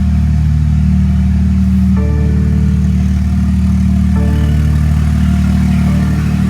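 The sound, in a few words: BMW M135i 3-liter six-cylinder engine running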